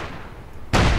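Gunfire in the Company of Heroes 2 war strategy game: a sudden loud, broadband shot or blast bursts in abruptly after a quieter rumbling backdrop.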